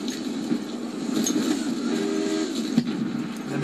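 A train in Battlefield 1 sounds a sustained, wailing horn, much like an air raid siren. It plays over a rumbling rail background with a few sharp clanks. Loud and close.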